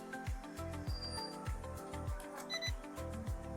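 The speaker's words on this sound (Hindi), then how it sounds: "तो आप देख रहे हैं डबल बीप हुई है" Short, high electronic beeps come from a toy drone's remote controller, sounding over a steady, repeating pattern of lower synthetic tones and sweeps. The beeps are near and moderately quiet.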